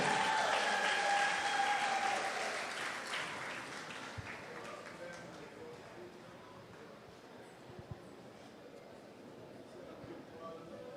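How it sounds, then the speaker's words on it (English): A crowd at a primary school fund-raising awards banquet gives a sustained round of applause that starts full and slowly thins. A few louder claps stand out near the end. "A bigger round of applause,"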